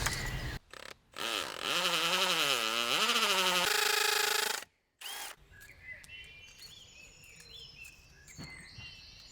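A power drill whirs loudly in bursts, its pitch rising and falling as it bites, then stops, leaving quieter clicks and scraping noises.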